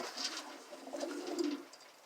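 A soft, low bird cooing close by, a gentle rolling coo repeated over a faint background hiss.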